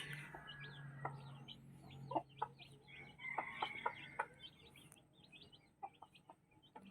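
Chickens, including Rhode Island Reds, cluck in short repeated bursts over a low steady hum, with faint chirps mixed in; moderately quiet and nearby.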